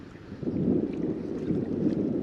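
Southwesterly wind at about 10 knots buffeting a microphone while kayaking at sea off St Ives in Cornwall, a steady low rumbling gust noise with water sounds, moderately loud and continuous.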